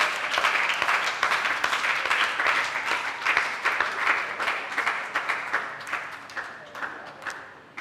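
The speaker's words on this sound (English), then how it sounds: "a round of applause for all the participants who have showcased their incredible knowledge and skills" Audience applause for participants at a school reading quiz quarterfinal, a dense round of clapping that gradually thins into scattered, more distinct claps as it fades.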